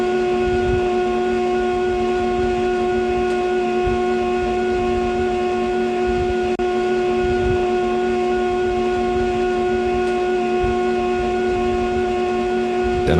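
An office printer captured on a phone gives off a constant droning hum with steady tonal whine and a faint rumbling, chattering texture underneath, unchanging and continuous throughout with no voices.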